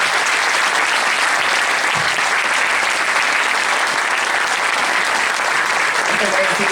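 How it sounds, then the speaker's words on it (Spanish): Sustained, dense applause from a large audience at a political panel on Malvinas sovereignty, steady and loud throughout with no pauses. "Un aplauso"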